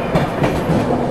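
The Kerala Express runs at speed on the rails, a steady close rumble of carriage wheels with faint clickety-clack beats and no voices.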